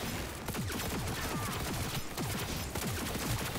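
Rapid gunfire crackles through a firefight in Cyberpunk 2077, a dense, continuous volley of shots heard at moderate distance under the game's sound mix.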